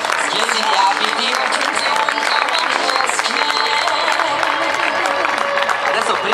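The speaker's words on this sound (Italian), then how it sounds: "Sentiamo l'ultimo applauso per le ragazze" Audience at a fashion night show clapping for the models, dense continuous applause with some crowd voices mixed in, steady and loud.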